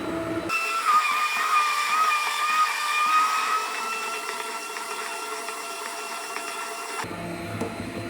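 A blender running on soup, a loud continuous whine and whir with a steady rising pitch through most of the run before it cuts off near the end, close and alone without talking.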